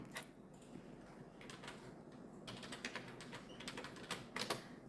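Quick bursts of computer keyboard typing while entering a layer name in Photoshop, soft and close, with short pauses between clusters of keystrokes.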